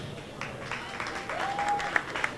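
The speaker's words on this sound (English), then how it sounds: "Please give them a big round of applause for being here." A crowd at a Jamaica 60 launch reception in New York applauds guests including Mayor Eric Adams, with moderate clapping, a few sharp claps near the end and a faint tone underneath.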